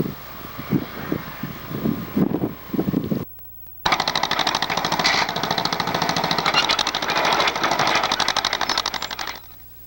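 Construction work on a new parking lot beside a rifle range: rapid mechanical hammering from heavy equipment in bursts, a short pause, then a long continuous loud pounding run, captured close with some wind noise.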